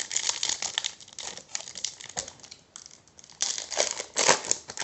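A Yu-Gi-Oh booster pack's foil wrapper is torn open and crinkled close up, with bursts of sharp crackling and tearing noise alone, pausing briefly around the middle before a louder rustle.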